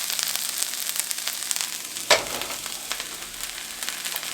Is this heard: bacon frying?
yes